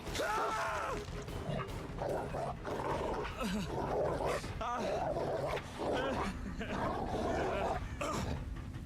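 In the Dead by Daylight survival horror game, a killer's dog barks and yelps repeatedly in short bursts, loud and close, mixed under continuous game sounds and a person talking throughout.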